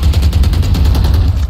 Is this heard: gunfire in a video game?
yes